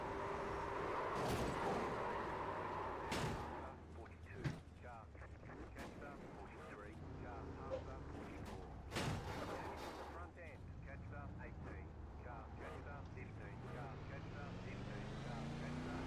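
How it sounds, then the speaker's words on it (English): A multi-car wreck on a restart in the iRacing sim racing game: several sharp crunching impacts burst out over a steady roar of race engines, then the engine drone carries on at a rising pitch. "Huge wreck off of the restart."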